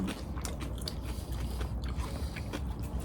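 Close, steady crunchy chewing of noodles with yeolmu (young radish) kimchi, eaten at a campsite in Pyeongtaek, Gyeonggi-do; moist bites and mouth sounds continue without pause and with no talking.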